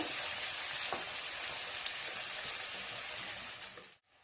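Onions frying in a pan make a steady hissing sizzle close by that cuts off abruptly at the end.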